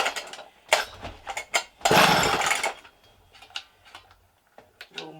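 Vintage 1960s McCulloch 300 chainsaw sputtering through short, uneven bursts as it tries to start and pick up tank fuel, with one louder rev around the middle; nearby and irregular, with no talk.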